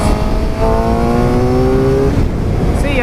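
2018 Suzuki GSX-R 750 motorcycle accelerating hard to pass a car on the road: a loud, rising engine whine climbing through the revs, then cutting off abruptly near the end, with a faint voice briefly at the close.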